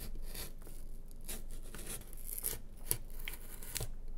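Scissors cutting a cardboard shape for a homemade piggy bank, a run of close, faint rasping snips and tearing scrapes at an irregular rhythm, with no voices.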